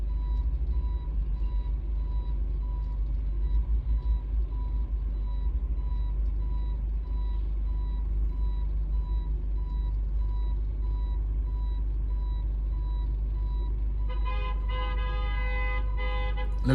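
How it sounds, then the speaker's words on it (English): A truck reversing on a Philadelphia street gives steady, evenly spaced backup warning beeps over a loud low engine rumble, heard from nearby inside a car, with an added brighter tone near the end. "Looks like this truck is trying to reverse."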